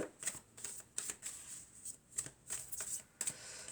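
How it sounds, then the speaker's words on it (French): Oracle cards being shuffled by hand in quick repeated riffles and slides, a soft papery rustle recurring several times, close but quiet with no talking. "on va prendre quelques cartes de l'oracle de la triade"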